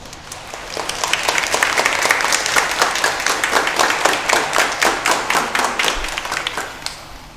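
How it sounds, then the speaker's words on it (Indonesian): Applause for children and liturgy helpers at a school Mass, a large crowd clapping that builds up and then settles into rhythmic, unified claps toward the end. "Kita beri aplaus untuk mereka."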